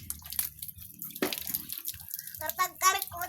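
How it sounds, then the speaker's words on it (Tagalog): Water is poured over a bathing child, producing splashes and drips close by, while a child and an adult talk over it. "Buhusan mo ulit yung kamay niya, yung katawan niya rin."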